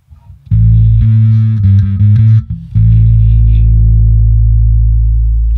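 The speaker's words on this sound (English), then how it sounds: "There's a dark glass distortion that is really, really good. Yeah, the Obsidian 7000" Electric bass played through a Line 6 Helix modeling a Darkglass-style Obsidian 7000 distortion, giving a thick, loud, sustained distorted tone with a few choppy notes before long ringing held notes.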